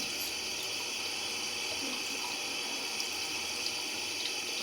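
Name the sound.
water from tap rinsing a mochi squishy toy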